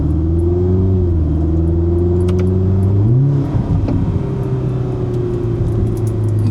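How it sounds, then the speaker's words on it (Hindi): A 2026 Ferrari driven in race mode on a road in Portugal, its exhaust note droning loud and steady up close, with a brief shift in pitch midway as the revs drop and build again. "रेस मोड में कर रहा हूँ मैं, ताकि एग्जॉस्ट नोट थोड़ा ज़्यादा लाउड रहे"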